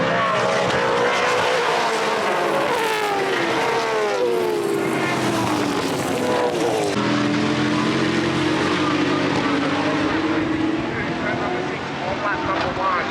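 Porsche race cars scream past on a track as they accelerate hard, engine pitch sweeping and shifting loudly and continuously, with a commentator talking over the roar.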